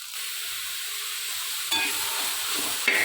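Bean leaf thoran being stirred in a pan, a soft hiss of cooking with a couple of brief scraping stirs.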